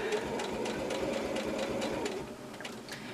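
A sewing machine runs steadily, stitching down a patch pocket with a continuous mechanical whir and rapid needle rhythm, close and fairly loud throughout.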